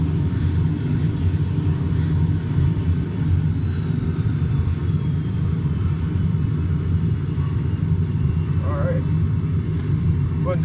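Sabreliner jet engines spooling up toward higher power, a loud, continuous low roar and rumble that holds steady throughout, heard close.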